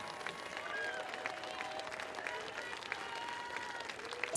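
A crowd applauding during Sinead O'Connor's funeral procession: dense, steady clapping from many people, with some scattered voices in the background.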